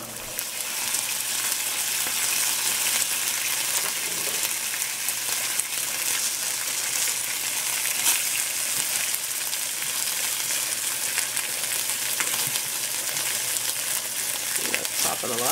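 Buffalo tofu wedges fry in a hot pan with dense, steady sizzling and frequent sharp pops, loud and close throughout with no voices.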